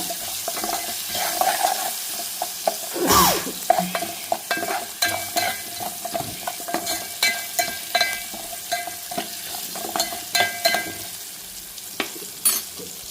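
Small onions frying in a pan, cooked for a sour tamarind-style stew, with a steady soft sizzle broken by repeated scraping stirs and clinks, one louder splash-like stir early on, close and with no talking.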